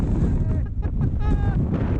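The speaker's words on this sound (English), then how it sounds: "It's windy." Strong wind buffets the microphone in loud, continuous gusts, with a brief muffled voice partly buried beneath the roar.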